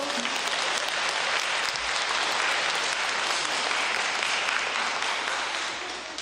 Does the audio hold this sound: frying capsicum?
no